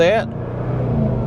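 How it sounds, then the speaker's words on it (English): The supercharged engine of a 2024 Jaguar F-Pace SVR runs with a low, steady rumble that builds slightly. A brief voice is heard at the very start. "That's called your supercharger."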